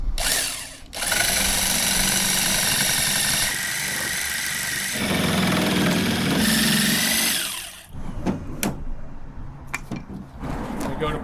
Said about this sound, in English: You want to grab your jigsaw and your board here.